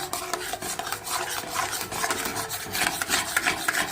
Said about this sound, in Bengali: এবার এটাকে ভালো করে নাড়াতে হবে